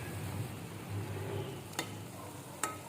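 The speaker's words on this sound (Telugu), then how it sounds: "రిమైనింగ్ బ్రెడ్ పీసెస్ని కూడా ఇలాగే ఫ్రై చేసుకుందాం" Bread pieces frying in a pan for double ka meetha, a steady soft sizzle with low stirring rumble and two brief sharp scrapes near the end.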